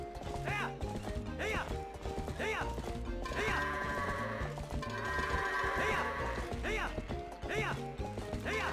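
Goats bleat repeatedly in the Zelda Twilight Princess video game, their wavering cries mixed with horse whinnies, hoof clip-clops and game music, with someone talking briefly.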